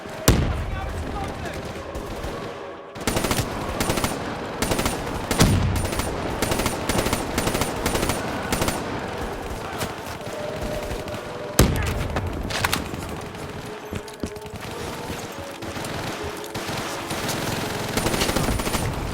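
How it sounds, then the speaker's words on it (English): Sustained machine gun fire from a Call of Duty: Black Ops III battle, rapid bursts and scattered gunshots with explosions layered through the whole stretch, loud and dense, with soldiers' voices calling out beneath the shooting. "an MG in that brick building"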